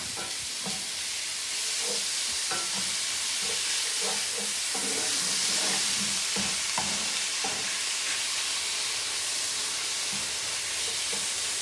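Bell peppers cook over high heat in a cast iron skillet, giving off a loud, steady hiss and sizzle throughout, with scattered clinks and scrapes of stirring mixed in.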